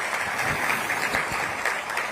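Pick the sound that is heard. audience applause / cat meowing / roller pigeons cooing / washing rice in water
audience applause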